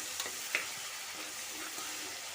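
Crushed small shallots hitting hot oil for a vegetable kurma produce a steady, hissing sizzle with a few faint crackles, close and continuous throughout.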